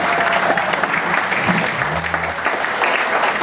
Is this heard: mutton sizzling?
no